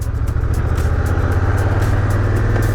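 Busy traffic in the center of a small town's old district on a warm day: a steady, loud roar of many cars close by, with no talking.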